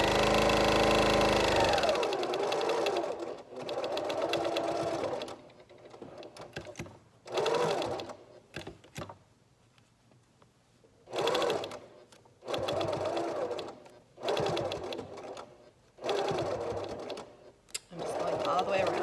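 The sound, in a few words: sewing machine stitching a fabric face mask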